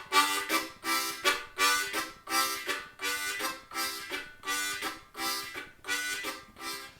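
Harmonica played in a rhythmic chugging pattern to imitate a train, with about a dozen evenly spaced breathy pulses alternating in and out, close and steady.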